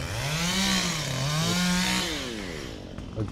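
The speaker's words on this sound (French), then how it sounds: "le mec il prend une tronçonneuse pour couper des petites palmes de bébés palmiers" A chainsaw revs loudly and steadily close by in a garden, cutting small fronds from young palm trees, its pitch rising and falling as it cuts, then easing off near the end.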